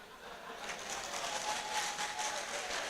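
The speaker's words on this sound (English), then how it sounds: "I noticed that it's the men that are clapping, the women are not clapping" An audience of men applauding, a dense patter of many hands clapping together steadily for a few seconds, at moderate volume in a room.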